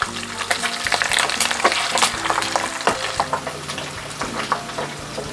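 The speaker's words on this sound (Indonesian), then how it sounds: "Babatnya saya goreng ya, minyaknya sudah panas, saya masukkan semuanya." Beef tripe sizzles and crackles loudly in hot oil, with steady frying hiss broken by scattered spatter pops and occasional scraping stirs, close by and without talk.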